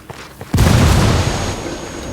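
A frag grenade goes off in the video game Ghost Recon Wildlands, a sudden loud close boom with a rumbling tail that fades over about two seconds.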